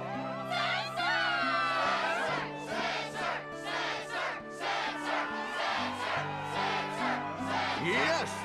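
A video game crowd cheers at the Struggle tournament in Kingdom Hearts II, rhythmic bursts of shouting and whooping repeating over sustained background music, loud and close throughout.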